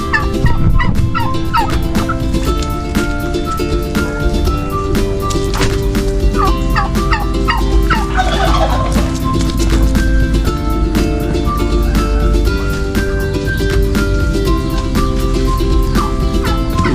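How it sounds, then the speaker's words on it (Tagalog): Loud, busy poultry noise, several birds clucking and squawking continuously and close by, over a dense background with no talking. "Ay, ang kukulit ng mga manok na ito."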